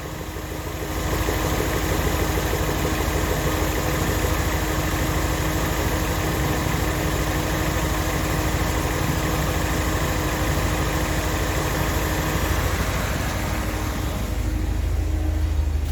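A car engine idles evenly during a small idle-speed screw adjustment, a steady low rumble that runs close and constant for the whole stretch, with no talking.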